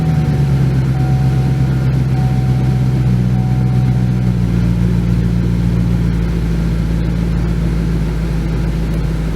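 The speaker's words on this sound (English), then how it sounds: "Crank it up." A Chevrolet Camaro engine runs at a steady idle just after starting, a loud, even low rumble with a smooth hum that holds unchanged throughout, with no talk.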